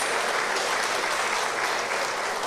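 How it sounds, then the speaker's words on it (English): Applause at the launch of an arts festival, greeting semi-finalist pageant delegates, a thick continuous roar of many clapping hands, loud and even throughout, with no voices standing out. "Give them another round of applause"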